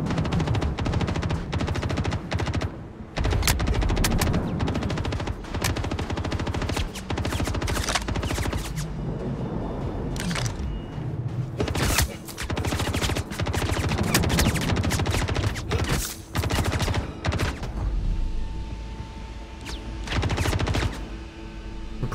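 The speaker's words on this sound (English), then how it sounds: "Someone is even shooting at me, oh my goodness." A pirate ship's gunfire striking the player's C2 Starlifter in the space game Star Citizen, heavy rapid machine-gun bursts and impacts that keep coming in loud dense volleys with short lulls, alone without talk.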